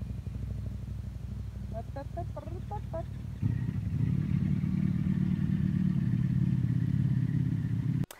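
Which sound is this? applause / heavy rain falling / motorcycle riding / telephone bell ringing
motorcycle riding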